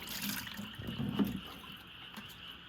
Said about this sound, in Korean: 맑은 물이 나올 때까지 헹궈 주시면 되겠습니다.